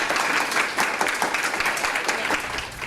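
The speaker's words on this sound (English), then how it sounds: "So please give a round of applause for Tiffany." An audience at a workplace wellness event applauds steadily for about three seconds, a dense wash of many hands clapping that fades slightly at the end.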